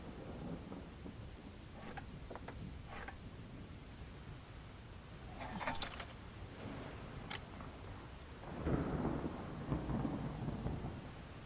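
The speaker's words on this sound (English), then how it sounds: "A perpetual storm rages in a ring around the wizard's tower." A thunderstorm rages in the video game Popup Dungeon, with steady rain, a few sharp crackles and low thunder rumbles swelling midway and again near the end.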